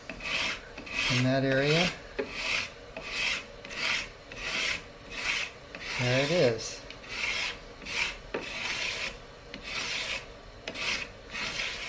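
A file rasps along the binding of a guitar fretboard in steady back-and-forth strokes, close and even, with a few short squeaky scrapes and a brief spoken remark.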